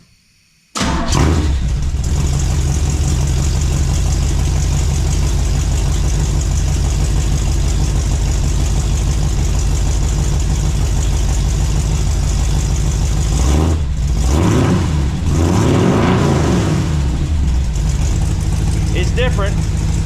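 A truck fitted with new 3-inch Flowmonster mufflers starts up and idles with a loud, steady rumble, then revs up and down a few times near the end.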